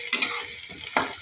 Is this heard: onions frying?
yes